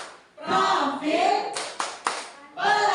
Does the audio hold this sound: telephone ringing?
no